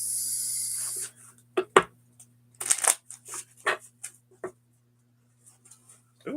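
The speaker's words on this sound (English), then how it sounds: "Let me shuffle this." A tarot deck being shuffled by hand, with soft riffling and flicking bursts of card noise separated by quiet pauses, close up with no talking.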